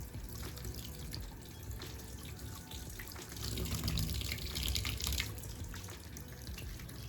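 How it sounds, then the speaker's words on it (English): Hot water runs steadily from a tap, a continuous hiss and splash that swells slightly midway, with no talking. "if you run the hot water over it, it helps bring it down"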